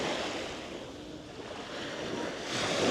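Sea waves wash continuously onto a quiet beach in Corsica in mid-August, a soft, steady surf with a gentle swell in the roar toward the end and light wind.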